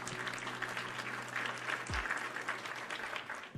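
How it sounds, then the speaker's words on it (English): Clapping from a small group of people, a steady patter of claps running through the whole stretch at moderate loudness, with a low hum beneath. "Round of applause for you."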